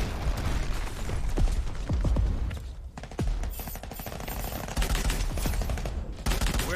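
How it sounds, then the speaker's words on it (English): Conqueror gun in Crackdown 3 firing in a steady rapid stream of loud, close shots that run almost the whole time, with a brief pause partway through and explosive game effects behind. "This is a decent little gun, this Conqueror."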